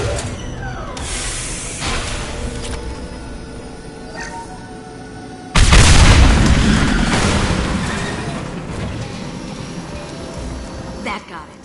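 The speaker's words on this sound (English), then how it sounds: "It'll take heavier weapons than that to blow those tanks." Tanks blown apart by heavy weapons fire in the video game Mass Effect 2, first a stretch of rumbling combat noise, then a sudden loud blast around the middle that roars and slowly fades.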